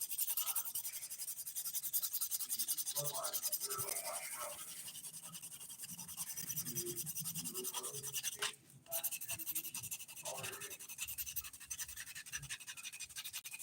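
A hand file smoothing dip-powder nails gives a steady, close scratchy rasp of quick back-and-forth strokes, broken by a brief pause near the end, with faint voices in the background.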